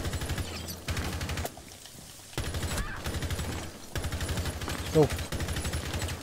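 Gunfire in Rainbow Six Siege comes as repeated close automatic bursts broken by short pauses, with a sharp louder report near the end. A voice exclaims briefly between the bursts.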